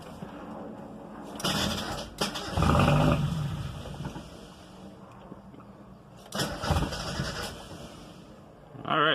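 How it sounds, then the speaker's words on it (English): A Mazda Miata engine with a new clutch cranks and catches in loud bursts, revs briefly, then falters and dies before cranking again; close and harsh. "So this will be the first startup of the car with the new clutch in"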